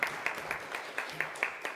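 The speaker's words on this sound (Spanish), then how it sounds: "un aplauso para Sebastián" Applause from an audience at a literary talk held at a geography institute, a steady patter of clapping with regular sharp claps standing out, fairly faint and lasting under two seconds.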